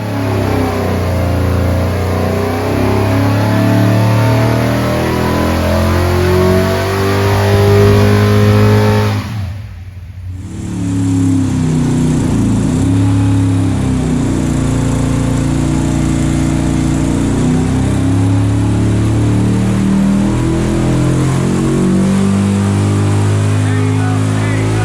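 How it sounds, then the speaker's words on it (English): A six-pack Max Wedge 440 V8 roars on a dyno, holding a loud, sustained rev with rising tones, briefly dropping away near the middle before it climbs back to full power. "It made a couple hits, got some good heat in the motor, and then we saw the biggest power of the day,"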